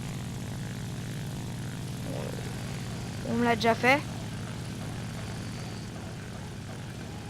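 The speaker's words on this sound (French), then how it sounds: "C'est un bombardier, d'accord." A bomber's propeller engines drone steadily in the aircraft combat game War Thunder, a constant low hum throughout with brief whooshing bursts midway, while someone speaks French over it.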